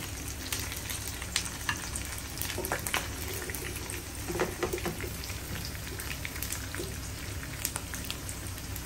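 Pork frying in reddened, popping oil, a constant close sizzle broken by sharp crackles and spits at irregular intervals, with no talk.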